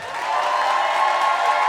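A theatre audience applauding and cheering to welcome a performer on stage, a dense, continuous wash of clapping and crowd noise at moderate distance, holding steady for a couple of seconds.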